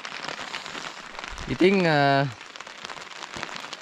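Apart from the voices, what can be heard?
rain falling on tent at campsite during thunderstorm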